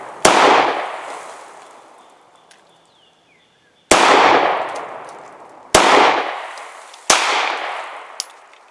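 Four loud pistol shots from a SIG M17 and a Glock 19X at a shooting range, spaced a couple of seconds apart, each a sharp crack with a long echoing decay.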